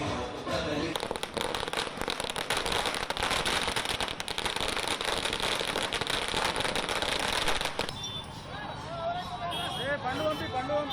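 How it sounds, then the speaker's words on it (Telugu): At a busy road junction beside a hospital, firecrackers set off in a political party celebration rattle in a dense, loud burst of continuous crackling for several seconds, then stop abruptly, leaving crowd noise. "అమ్మ హాస్పిటల్ కూడలిలో బాణసంచా కాల్చారు."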